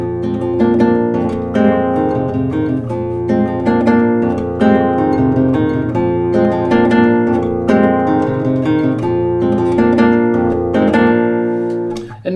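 Fingerpicked guitar plays a samba introduction at an up-tempo pace, crisp plucked notes and chords in a lively syncopated rhythm, solo and close.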